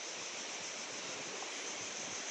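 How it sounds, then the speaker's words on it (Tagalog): Strong ocean waves surging in a steady, loud wash of broadband noise with no pauses, close by and unbroken by any voices. "Malakas yung alon."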